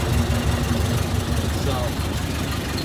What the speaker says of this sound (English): the motor sounds pretty good. It's got a little bit of a vibration.